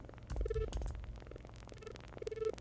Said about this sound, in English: You can kind of hear that crackling.